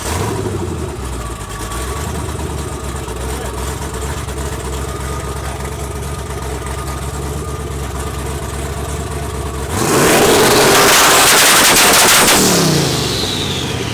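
A turbocharged rear-wheel-drive Honda Civic idles with a rough, lumpy rumble, then bursts into a loud, rising rev as it launches into a drag pass, the sound sweeping upward and then fading off.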